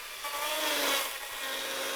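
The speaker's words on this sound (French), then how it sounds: "Je vais approcher la forme au plus près avec cette tronçonneuse." A chainsaw whines steadily as it bites into wood to rough out a sculpture, a harsh, close buzzing that swells briefly and then holds.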